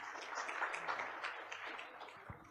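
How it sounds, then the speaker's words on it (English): Faint applause for a panel on stage at a formal event, a soft, even patter of many hands that gradually fades over two and a half seconds. "can we have a round of applause for the esteemed panelist on stage, please?"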